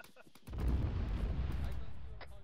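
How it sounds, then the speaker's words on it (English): Gunfire in the military shooter game ArmA 3: a heavy boom opens into a rumbling, rolling blast that slowly fades, with a few sharp shots before it and faint talk underneath. "Get your gun up, start suppressing."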